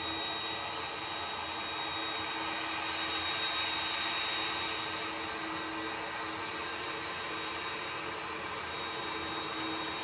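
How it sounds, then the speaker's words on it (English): A Turkish Airlines A330 taxis out at Manchester Airport, its jet engines giving off a steady, moderately distant whine and rumble that holds evenly with no voices. "Right, Turkish Airlines A330 coming out next."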